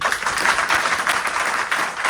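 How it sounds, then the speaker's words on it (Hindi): Audience clapping at a live demonstration of a digital Bhagavad Gita: dense, steady applause from many hands, moderately loud and continuous, with no voices over it. "जोरदार ताली बजाओ फ्रेंड"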